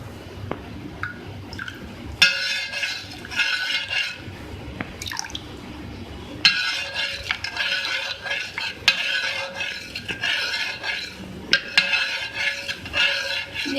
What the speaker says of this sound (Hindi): अब इसके अंदर मैं ऐड करूँगी सिरका